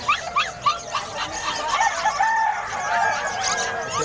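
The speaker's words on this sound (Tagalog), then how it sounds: "Ang laki manok." A large chicken at a cheap pet market in Bocaue calls out in a series of short, loud bursts, with crowing and clucking fowl and what may be dogs barking mixed into a busy, continuous background.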